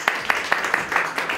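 An audience at a gallery award ceremony claps for an artist, with evenly spaced sharp peaks over a steady wash of hand noise for the whole short stretch.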